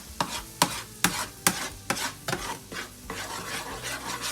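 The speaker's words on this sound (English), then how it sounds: "And I'm just going to scramble this egg." Egg is scrambled with garlic and frozen vegetables in a pan, with sharp rhythmic scrapes and clacks of a utensil against the pan over a soft, close sizzle.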